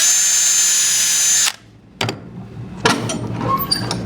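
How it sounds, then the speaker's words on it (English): A power drill bores into a workpiece clamped in a vice while building a three-legged stand, with a steady high whine for about a second and a half, then a pause and a few short, close bursts of drilling and handling. "Now I'm just going to drill where my indentations are."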